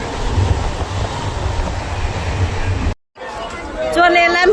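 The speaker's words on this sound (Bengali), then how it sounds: "ট্রেন ছেড়ে দিয়েছে, এ দেখো ট্রেন এখন চলছে।" A Krishnanagar local train runs with a loud, steady rumble and rattle of wheels and carriages, cutting out briefly and then returning with people talking nearby.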